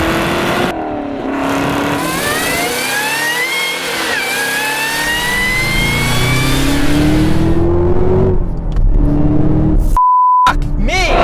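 A 2017 Chevrolet Camaro ZL1 engine revs and accelerates hard, a loud rising engine note climbing through gears for several seconds before dropping to a brief pause and a short electronic beep.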